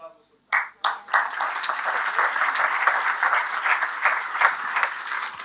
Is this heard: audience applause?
yes